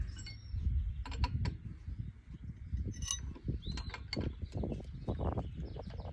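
Metallic clicking and ratcheting as a motor shaft is undone from a booster pump motor, irregular tool clicks and mechanical creaks over faint background bird chirps, quiet and close.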